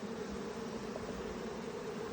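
Honeybees drone inside a hive box during a hive split: a faint, steady, even buzz of many insects with no break.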